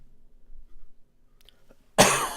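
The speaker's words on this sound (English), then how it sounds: "I cough way too much." A single sharp cough bursts out near the end after a quiet stretch with faint background noise.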